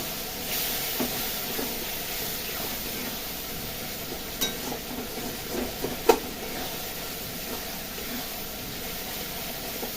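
Potatoes and green jackfruit sizzle in a pan of hot spices, a continuous hissing fry broken by a few sharp crackles and spits near the middle.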